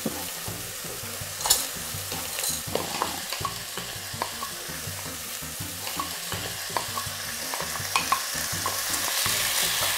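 Rice is stir-fried in a pan with sautéed onion, producing a steady close sizzle with repeated scraping stir strokes and no talk.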